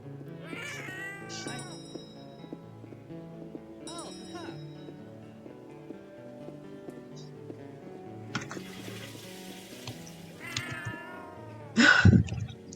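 Cartoonish cat meows recur at intervals from the video game 100 Christmas Cats, each a short rising-falling mew over soft looping background music, with a louder burst of noise near the end.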